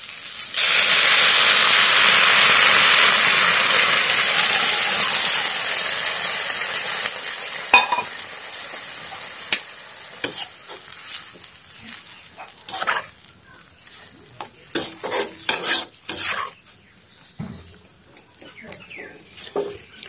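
Hot water is poured into a hot pan for an Assamese-style palak fish curry, making a loud, steady rushing hiss for several seconds. It fades into scattered clinks and stirring clatter close by.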